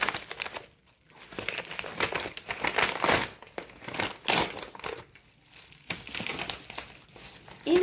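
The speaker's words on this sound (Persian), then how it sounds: "الان میخوام بازش کنیم ببینیم کتاب" Parcel packaging holding a book is crinkled and torn open by hand, giving a dense run of crackly rustles with brief pauses and a few louder crunches, close to the microphone.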